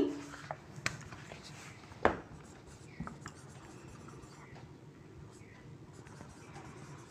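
Pen or pencil writing by hand on paper, a few faint scratchy strokes with sharper taps, quiet and close with a soft voice murmuring faintly underneath.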